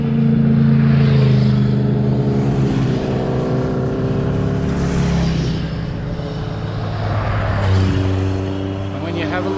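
Motorbikes pass through a National Parks state forest in Queensland, a continuous loud engine drone with rising and falling revs as they ride by, rough and steady throughout the stretch.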